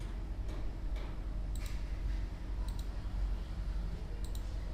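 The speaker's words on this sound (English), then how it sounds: "So just double click it to extract this zip file." A computer mouse double-clicks a few times, faint, sharp clicks over a steady low hum of background noise.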